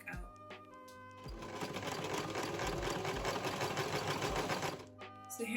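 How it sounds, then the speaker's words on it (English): A sewing machine runs steadily for about four seconds, stitching around the circumference of a fabric hat. Its buzzing motor hum is close and continuous, with a few brief handling noises before and after. "we're going to want to sew all around the circumference of that"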